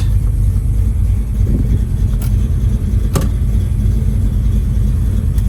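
A 1966 Ford Mustang GT coupe with a 4-speed, its engine idling in a steady, close, low rumble with a couple of brief clicks and no talking.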